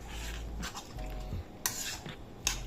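A spoon stirs a thick besan and semolina batter in a bowl, soft scraping swirls with a couple of sharp clinks against the rim, quiet and close.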